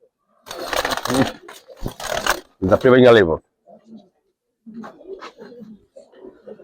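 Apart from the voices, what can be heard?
Giribaz pigeon cooing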